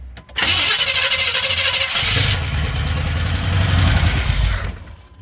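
A truck engine cranks and catches, then runs rough and loud close by with throttle feathering, a sputtering rumble that holds for several seconds before cutting back.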